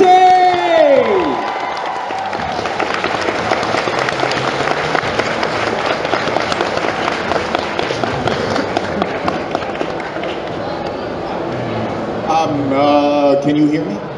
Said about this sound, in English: massive round of applause again for the brilliant Mr. John De Lancie!